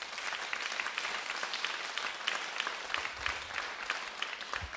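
Concert audience applauding the band's drummer after the evening's performance, a dense, steady wash of clapping filling the whole stretch without pause.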